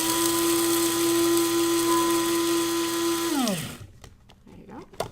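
Electric grinder whirring steadily as it grinds flaxseed in a cooking class kitchen, a loud sustained whine for over three seconds that then spins down and stops, followed by faint handling noises.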